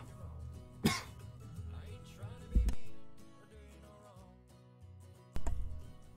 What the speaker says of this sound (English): Just like coughing my lungs out right there just as we're wrapping this up.